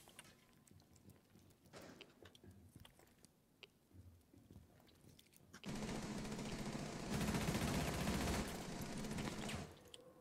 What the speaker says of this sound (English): I'm getting the shit shot out of me.